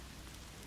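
Rain falls in The Forest video game as a soft, even hiss, faint and steady with no other sounds.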